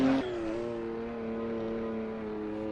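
A Porsche racing car engine in the Assetto Corsa game, one brief higher rev at the start settling into a steady, droning engine note that holds evenly at constant volume, with no talk.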